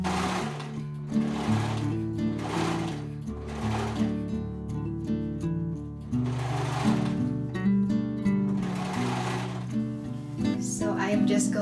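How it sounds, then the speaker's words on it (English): A serger sewing machine runs in bursts along a raw fabric edge, its fast whirring stitch starting and stopping repeatedly at close range. "Going to serge the raw edge."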